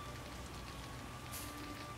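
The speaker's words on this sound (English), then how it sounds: "It's raining, this is so depressing." Steady rain falls in The Witcher video game, a dense, even patter of drops on surfaces throughout, moderately quiet, with a brief brighter splash near the end.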